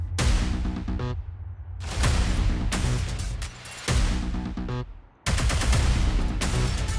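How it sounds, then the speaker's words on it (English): Gunfire from attackers ambushing a man outside 2522 Holland Avenue in a gang shooting: loud, dense bursts of rapid shots in several volleys, separated by brief pauses. "They just start shooting at him."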